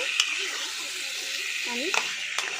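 Chicken pieces frying and being stirred in a pan for a potato chicken curry: a steady close sizzle with a few sharp utensil scrapes and clicks against the pan.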